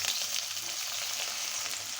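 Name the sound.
onions frying after dried fish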